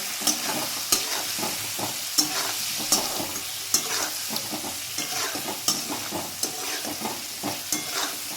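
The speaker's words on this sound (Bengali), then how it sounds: "আর একটু লবণ পরিমাণ মতো দিয়ে আমি এটা নাড়াচাড়া করে নেব" Cabbage curry with turmeric and salt stirred in a frying pan: a soft sizzle beneath regular, close scraping knocks of the spatula, repeating roughly every half second to second.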